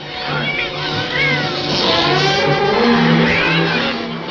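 Cats meow and yowl repeatedly in a noisy scene from an old war film, the cries rising and falling in pitch as voices and background commotion run beneath them.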